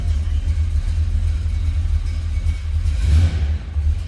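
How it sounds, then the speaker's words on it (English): A 1966 Chevrolet Impala wagon engine idles after a cold start, a steady low rumble throughout with a brief swell near the end, close and fairly loud with no talking. "That was a cold start."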